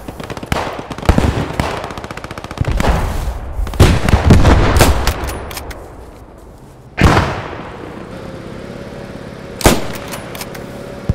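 Artillery shelling in the Post Scriptum video game: heavy booming blasts and rattling gunfire in close, irregular bursts, with a couple of loud impacts standing out against a rumbling battlefield background.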